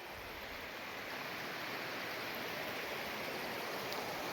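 A river in the Khairna Garampani area near Nainital flows past in a steady, even wash of rushing water, constant and fairly faint with no talking.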